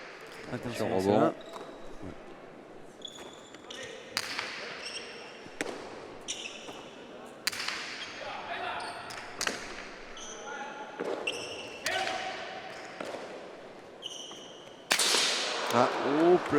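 A cesta punta ball slams against the walls of a fronton during a Grand Slam final, sharp cracks echoing at irregular intervals of a second or two, while commentators talk and spectators murmur.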